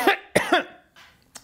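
Two or three sharp, harsh coughs close up, followed by a softer exhale and a final short cough.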